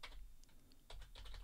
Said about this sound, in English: typing the username as admin